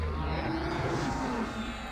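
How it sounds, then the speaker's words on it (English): A raid boss in a video game lets out a drawn-out cow-like moo, a low bellowing call that fills the short moment at close, loud level without any talking. "He makes like some cow noises,"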